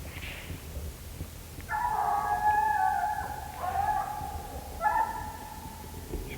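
A hunting coonhound bays on a raccoon's trail at night, her drawn-out howling bawls coming in three separate bursts from far off, steady and faint over a low rural background.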